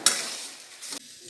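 Dried biryani leaves dry roasting in a pan: a brief dry scrape and rustle as they are stirred, with a short second stir near the end, fairly close and quiet.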